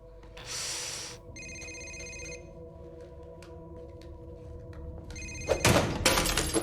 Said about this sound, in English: Next person whose phone rings has to eat it!